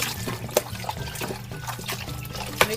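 Excess water is pressed out of cleaned seafood by hand, giving close wet trickles and dribbles with a few sharper squelching splashes, soft and irregular, with no talking.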